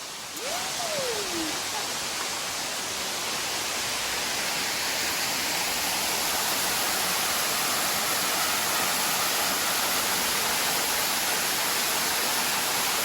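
A rainforest waterfall in Puerto Rico roars as a steady, dense broadband rush that stays loud and unbroken throughout, with a brief faint whistle-like tone near the start.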